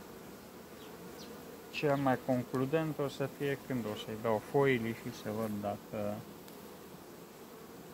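Honey bees buzz at a hive after a swarm has returned to it, a low, steady hum underneath someone talking close by for most of the stretch.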